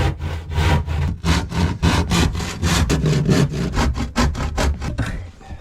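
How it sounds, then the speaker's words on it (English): A handsaw cuts through wood to reach the corners during a kitchen fitting, giving a loud, steady series of rasping back-and-forth strokes, about fifteen of them, close up with no talking. "using a handsaw just to come up to the corners"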